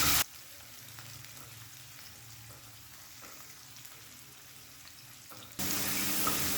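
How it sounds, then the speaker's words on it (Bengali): Chopped onion frying in a pan over a medium-high flame, giving a steady, fairly quiet sizzle with a few faint stirring taps, close by and free of talk. "গ্যাসটাকে মিডিয়াম টু হাই ফ্লেমে রেখে পেঁয়াজটা লাল লাল করে ভেজে নেব।"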